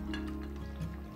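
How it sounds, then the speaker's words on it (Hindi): Water pours into a pot of Chettinad biryani in a home kitchen, a brief close liquid trickle over a low background hum. "अब ये पानी भी इसमें डाल देंगे।"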